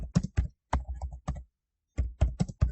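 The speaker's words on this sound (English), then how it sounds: "I need to type inside your git bash" Bursts of computer keyboard typing entering a Git command in Git Bash: quick clustered keystrokes, a pause, then another run of taps, close and clear with no voices.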